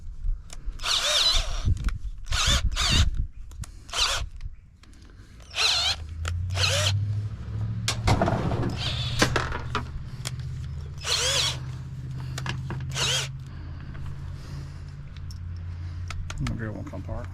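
A power drill used while scrapping a stove, deepfreeze and dishwasher gives repeated short, loud whirring bursts at close range, with clanks and a low rumble between them.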